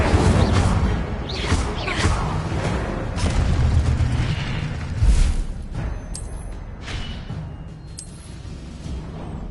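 An Incendio fire spell from Hogwarts Legacy bursts out as a loud, booming whoosh of flame that rolls on for several seconds with a few fresh flares. It fades toward a quieter, crackling tail.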